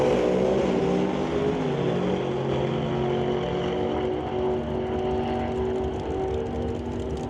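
Pro Stock drag racers, a 97 Firebird with a traditional 500 cubic inch engine and a 41 Willys, make a loud, continuous engine roar that holds steady throughout.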